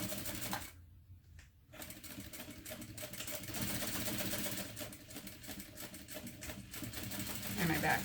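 A sewing machine stitching a seam on a baby sewing project, a quiet rapid mechanical whirring chatter with a brief pause, then steady stitching under faint background voice.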